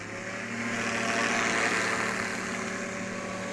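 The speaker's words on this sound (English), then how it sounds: "We did hear the turbo spooling up on that." Ultralight aircraft with a Rotax 916 turbo engine at a STOL competition in Pinedale, Wyoming, running steadily with a broad engine roar and a hiss that swells in the middle and eases off, no talk.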